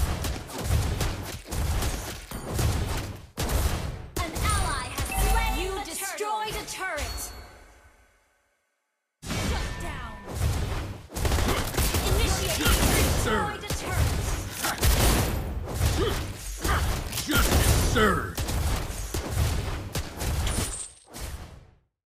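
Rapid bursts of video game gunfire crackle and pop in dense volleys over a shooter's match, broken by a brief silence midway, with game voice lines heard through the action.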